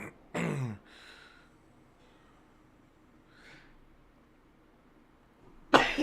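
A person coughs sharply and close by, once at the start and again at the end, with a softer throat sound between, against near silence.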